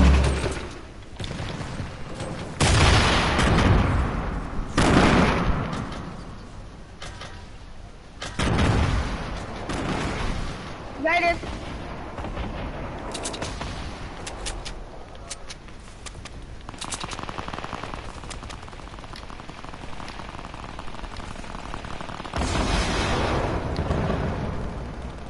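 An explosive weapon fires in a video game, sending several sharp booming blasts in irregular bursts with quieter stretches between them.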